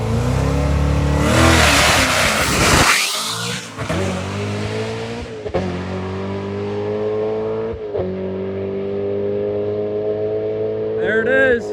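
Corvette ZR1 with a six-speed manual on a drag run, its engine loudly revving and accelerating through gear shifts with rising and dropping pitch, a steady roar held close throughout.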